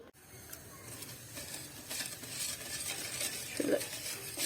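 A spoon stirs sugar into a pot of freshly boiled milk, giving a steady soft scraping swish with a few faint clinks against the pot; no one talks.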